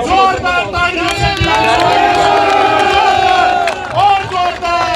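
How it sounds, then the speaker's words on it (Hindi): A political rally crowd cheers and shouts loudly, a dense roar of voices and whoops rising and falling close by, with clapping blended into the din. "एक बार सारे साथियों से निवेदन है, जोरदार तालियों से"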